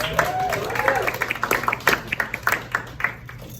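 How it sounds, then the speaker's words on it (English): Studio audience applause at a live comedy game show, scattered claps and cheers that thin out into separate, fairly close hand claps over a few seconds, with whoops in the crowd. "give yourselves another round of applause"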